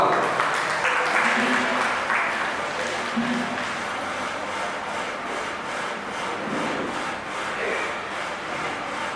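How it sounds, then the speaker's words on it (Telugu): Church congregation in a village gathering in Andhra Pradesh clapping to welcome a speaker to the front, a steady broad wash of applause from many hands filling the room throughout, with some murmuring voices underneath. "వారు వస్తున్నప్పుడు చప్పట్లు కొట్టి ఆహ్వానిద్దాం"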